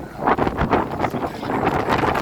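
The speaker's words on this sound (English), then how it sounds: "You can hear the sound of the wind in the background." Strong wind buffets the microphone in heavy, gusting roars that surge and fade, loud and close throughout.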